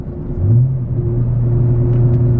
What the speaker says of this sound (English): I'm gonna downshift in the fourth now